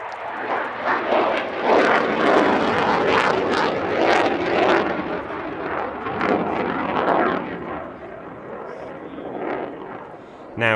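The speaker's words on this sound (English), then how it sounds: "the Typhoon launches into its solo routine" At the Cosford Airshow, a Typhoon fighter jet flies a solo display routine, its engine roaring loud and unbroken overhead with surging, pulsing waves of jet noise throughout.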